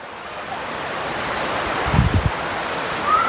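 Water pours down at Dream Falls (Aliw Falls), a constant broadband rush close by, mixed with wind buffeting and a few brief low thumps.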